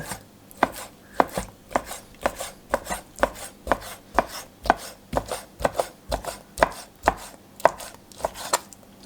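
Steady rhythmic chopping of a knife through chicken onto a cutting board, many quick close strokes in a regular beat without speech.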